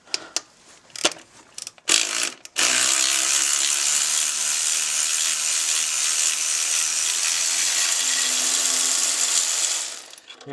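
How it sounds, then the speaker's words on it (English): A socket wrench works a 14 mm alternator bolt loose on a 2004 Mercedes C320 4Matic, giving a few sharp clicks and then a long, continuous ratcheting whir up close. "We're going to take this bolt completely out on the alternator."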